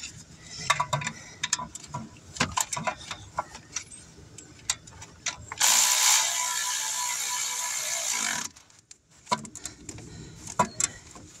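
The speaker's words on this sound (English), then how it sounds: "I'll tighten up the bottom bolt right quick." Ratchet tightening the bottom alternator bolt on a 2008 Hyundai Accent, giving bursts of quick clicking strokes either side of a steady hiss, close and moderately loud.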